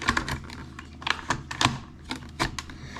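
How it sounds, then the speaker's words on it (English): A french fry cutter clips down through skin-on potatoes, giving a string of sharp, crisp chopping clicks and snaps at an irregular rhythm, close up and fairly quiet, with no talking. "Now I have this cutter here, this french fry cutter I got from Amazon."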